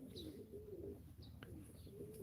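Pigeons coo softly and repeatedly at a live pigeon auction, low warbling calls with faint chirps in a quiet indoor setting.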